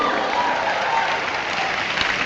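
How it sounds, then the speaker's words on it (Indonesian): A crowd applauds steadily, a dense wash of clapping that stays loud throughout, with some cheering mixed in. "Bersorak-sorai, tepuk tangan dulu."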